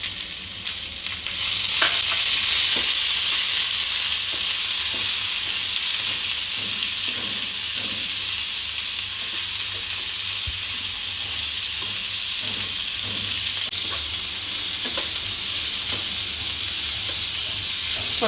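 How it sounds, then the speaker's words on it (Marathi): Capsicum, beans and cabbage stir-frying in a pan for spring roll filling give a loud, steady sizzling hiss, with occasional faint scrapes of stirring running under it throughout and no talking. "परतून घेऊ थोडं."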